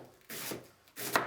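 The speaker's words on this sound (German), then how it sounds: "Und jetzt werde ich diesen Hartteil abschneiden und den Kohl ganz fein hacken." A knife finely chopping cabbage for homemade sauerkraut, heard as two close bursts of cutting strokes on a board, a brief pause between them, fairly quiet and with no voices.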